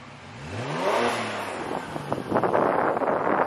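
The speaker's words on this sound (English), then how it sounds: "now hit it hard. You gonna hear my turbos" A Kia Stinger GT's twin-turbo engine revs hard, pitch climbing steeply then holding at high rpm with rough, crackling bursts toward the end, loud and close.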